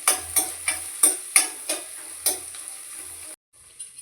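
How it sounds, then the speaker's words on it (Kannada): Onions being roasted in a pan for a palak paneer masala gravy: about eight sharp scraping stirs in an uneven rhythm over a steady high sizzle, close and fairly loud, then a brief stop and more sizzling. "ಇವಾಗ ಈರುಳ್ಳಿ ಹಾಕ್ಕೊಳ್ಳೋಣ. ಇದನ್ನು ರೋಸ್ಟ್ ಮಾಡ್ಕೊಳ್ಳೋಣ."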